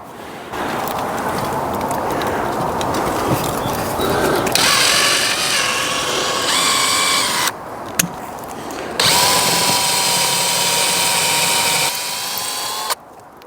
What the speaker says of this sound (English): I get to the bottom of the pilot hole, because it just becomes less easy to drill